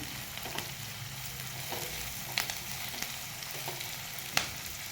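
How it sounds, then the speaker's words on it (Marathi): Chilli, curry leaves and ginger-garlic paste sauté in a pan with a quiet, continuous sizzle, broken by a few crisp scraping taps from stirring, close by and with no talking. "कढीपत्ता घालून घेऊया आणि याच्यामध्ये आलं लसूण पेस्ट घालूया आपण त्याला पण चांगलं परतून घेऊया आपण"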